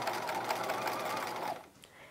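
Sewing machine running steadily as it stitches the hem of a 1950s-style halter dress, a close, continuous whirring buzz for about a second and a half before it stops and leaves a quiet room.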